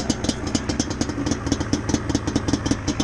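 A Yamaha Banshee ATV engine, just started and running on Klotz racing oil, idles with a steady, rapid, throbbing two-stroke pulse, loud and close, with no voices.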